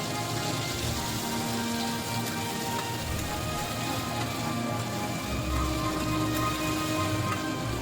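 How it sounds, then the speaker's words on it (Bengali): Shrimp sizzle and crackle steadily in hot oil while being gently stirred, a continuous dense frying hiss that swells slightly toward the end. "চিংড়িগুলি হালকা করে নেড়েচেড়ে ভাজতে হবে।"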